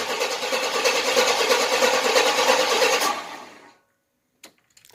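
A 1992 Chevy 1500 pickup with a swapped-in 4.3 engine and its exhaust cut off roars loudly and roughly for about three seconds. It then dies away into silence, followed by a couple of faint clicks.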